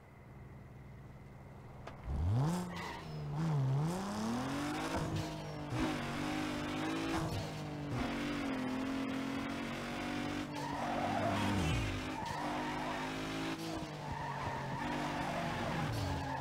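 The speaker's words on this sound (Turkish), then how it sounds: "Şimdi hocam bu drift olayı çok önemli." Cars drift through corners in Need for Speed Underground 2, engines revving up and down over long tire skids and squeals, continuous and loud across the whole stretch, with a brief voice near the start.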